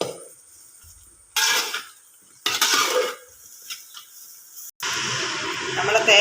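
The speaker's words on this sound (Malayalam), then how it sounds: "ഇങ്ങനെ ഇളക്കി കൊടുത്തുകൊണ്ടിരിക്കണം." A utensil scrapes and stirs grated coconut and spices roasting in a pan, in short loud bursts of scraping and clinking separated by quieter pauses, with someone talking briefly.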